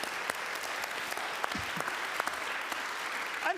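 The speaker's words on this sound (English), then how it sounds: "can we have a round of applause for Heather, because she's nailed it" Audience applause for a volunteer at a comedy night, a steady, moderately distant wash of clapping that holds evenly throughout with a few sharper individual claps standing out.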